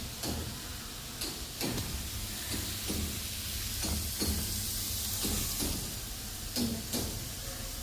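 Food cooking on a gas stove with water heating on a second burner, a soft steady hiss with scattered light ticks and clicks, fairly quiet and without talk.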